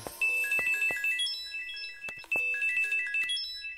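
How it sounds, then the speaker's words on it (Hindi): A mobile phone ringtone plays a bright, melodic electronic tune with repeating chime-like notes and percussive hits, fairly close and clear, with no voices over it. "अरे वाह भौजी के फोन।"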